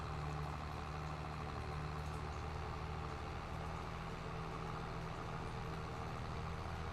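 A tractor engine idles in Farming Simulator 22, a steady low, dense rumble holding at an even level throughout with no talk over it.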